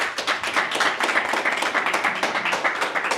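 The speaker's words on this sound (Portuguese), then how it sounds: "Este aplauso é para eles" Audience applause at a Lisbon political cultural-debate event, a dense steady patter of many hands clapping close by for the full stretch, with a faint voice briefly underneath.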